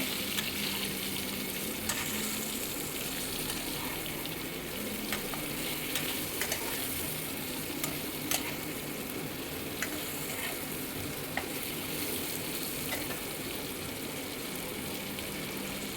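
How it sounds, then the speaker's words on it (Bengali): Vegetables sizzle in a kadai, with a steady, quiet hiss of stir-frying and scattered scrapes and taps from the stirring. "সবজিগুলো দিয়ে দিলাম কড়াইতে দিয়ে এটাকে একটু ভালো করে নেড়ে নেবো"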